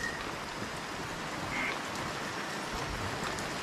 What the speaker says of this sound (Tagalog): ulan kasi sa labas